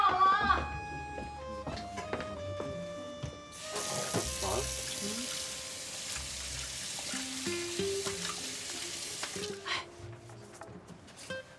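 Tap water runs into a kitchen sink for hand washing, a steady broad hiss for several seconds mid-clip, with clinks and household voices around it at home before a meal.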